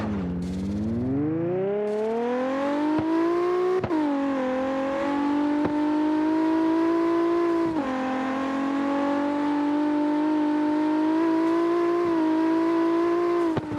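A video game racing car engine revs upward, then drops in pitch at each gear change and climbs again, a loud steady whine with no talking.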